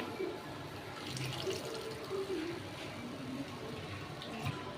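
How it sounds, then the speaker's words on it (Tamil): Tamarind water poured into a pot of mixed-vegetable Pongal curry seasoned with salt and turmeric, giving a soft, steady liquid splashing and trickling close by with no talk. "புளி கரைச்சி வச்சோம்ல இப்போ இதை ஆட் பண்ணிக்கோங்க"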